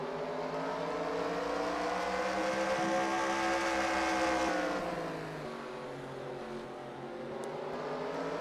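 Stock race cars roar around Stafford Motor Speedway, a loud, continuous engine drone whose pitch swells and sweeps as cars pass at speed, steady and sustained throughout.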